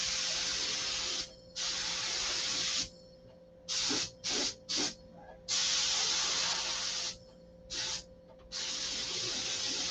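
Spray gun laying a tack coat of paint onto a model aircraft trim in bursts: long hissing sprays alternate with several short quick passes, close and loud, with no talking.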